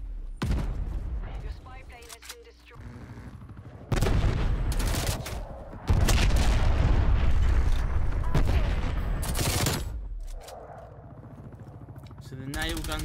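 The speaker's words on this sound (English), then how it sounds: "So the nail gun beats an LC-10 in a gunfight" Loud bursts of nail gun and LC-10 fire in a Black Ops Cold War multiplayer match, with booming impacts and dense volleys that come and go over a talking voice.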